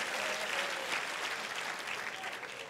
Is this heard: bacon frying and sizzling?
no